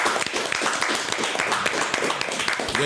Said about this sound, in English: let's not even go any further without just giving a round of applause to both of them